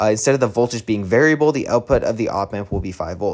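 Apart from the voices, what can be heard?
No everyday noise stands out behind the speech.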